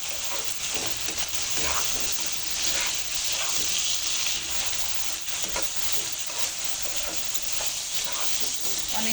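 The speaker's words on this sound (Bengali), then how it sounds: "অন্য মশলা দেওয়ার আগে চিংড়ি মাছটা একটু ভেজে নিলে মাছটা অনেক সুন্দর লাল হয়" Prawns fry in a pan with oil ahead of the other spices for a prawn and vegetable-stem curry, giving a loud, continuous close sizzle with occasional stirring scrapes throughout.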